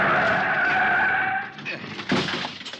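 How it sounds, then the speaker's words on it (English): Tires screech loudly as a car skids hard to a stop with its brakes jammed on a city street near a curb, a sustained squeal that breaks off into a short scraping thud. "The other driver had jammed on his brakes and finally skidded to a stop against the curb"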